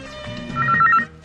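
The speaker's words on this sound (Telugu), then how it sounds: "రింగ్ అవుతోంది" A telephone rings in a home, a short electronic ringing burst lasting about a second, loud and close, with no voices over it.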